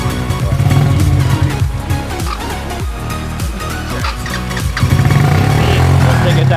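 A quad bike engine revs loud and close, its steady roar rising and falling through gear changes without pause.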